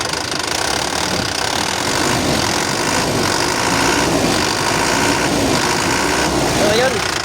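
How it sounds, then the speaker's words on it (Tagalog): An Isuzu 4JB1 2.8 turbo diesel engine with intercooler runs steadily at idle with a knocking clatter, close and loud, while someone talks over it. "Ito ay 4GB1 engine na may turbo."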